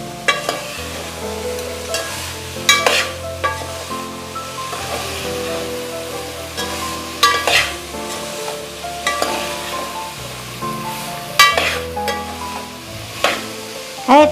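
Chickpeas being stirred in a hot pan for Gujarati kadhi chana, a steady sizzle with repeated scraping and clattering strokes of the spoon, close and fairly loud with no talk.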